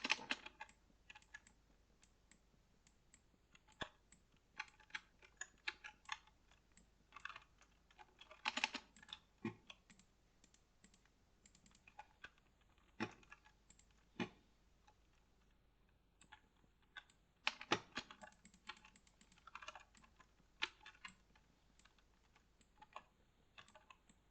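Someone types on an unfamiliar computer keyboard while playing a house-building game, making irregular quiet key clicks and occasional sharper taps in bursts and pauses, close up, with no speech.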